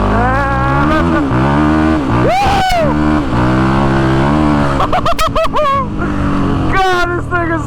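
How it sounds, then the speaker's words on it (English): A Can-Am quad's engine runs hard at full throttle, its buzzing note climbing and dropping through repeated revs and upshifts, loud and close, with rapid rev bursts near the end. "we are full throttling it because we do want to make sure that this thing does run properly"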